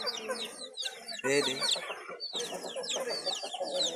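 Chicks and a hen clucking close by, with dense high chirps and cheeping layered over lower clucks in continuous, busy bursts.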